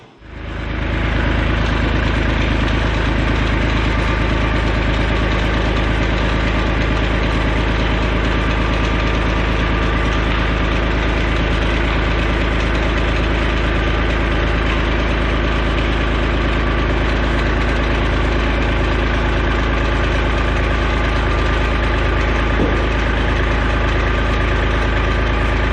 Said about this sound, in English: So we ease that tractor in there.